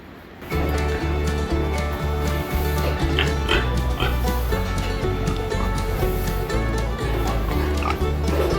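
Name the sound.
show pigs oinking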